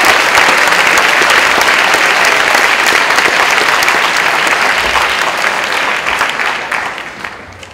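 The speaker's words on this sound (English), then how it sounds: "So let's give him one more round of applause." An audience at a campus conference on global poverty gives loud, sustained applause, a thick, continuous rush of clapping that stays strong for several seconds and then thins out and fades toward the end.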